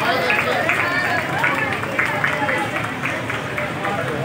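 Audience clapping for a poet at an Urdu poetry recital, a steady dense wash of applause filling the room and holding level throughout, with a host's voice speaking over it.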